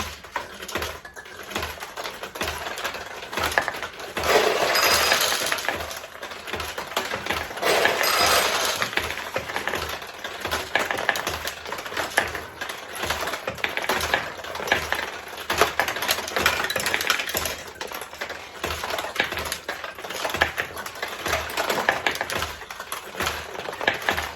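Metal balls clatter and rattle down through a 1975 Maruto vintage pachinko machine, a steady dense stream of small clicks and taps that swells in louder bursts and continues without talk.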